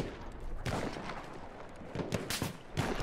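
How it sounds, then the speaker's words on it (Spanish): Gunfire in the first-person shooter game Battlefield 1, with shots aimed at the player: several sharp cracks among quieter background battle noise, a few spaced bursts standing out near the end. "Ya me dispararon, escuché muy claro ese disparo hacia mí"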